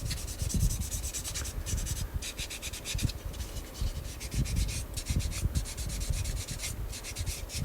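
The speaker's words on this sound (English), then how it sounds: "Then I sand the whole body off with a fine grit sanding sponge" A fine grit sanding sponge rubbed over the body of a 1/24 scale Audi Sport Quattro S1 model kit, quiet rhythmic back-and-forth scratching strokes repeated close up.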